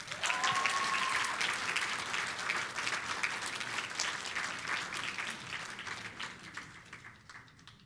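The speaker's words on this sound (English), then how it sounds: "Clarence, round of applause." An audience at a university graduation ceremony in a large hall claps steadily and densely, the applause sustained for several seconds and gradually tapering off toward the end.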